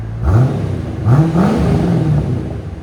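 A C4 Chevy Corvette's 5.7L V8 with an aftermarket exhaust revs twice, loud and close, each throttle blip climbing in pitch from a deep burble before settling back.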